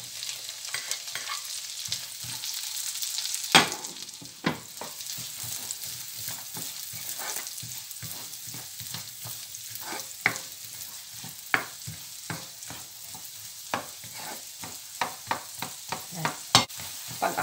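Shallot onions frying in a pan with a steady close sizzle, punctuated by sharp scrapes and clicks of stirring throughout.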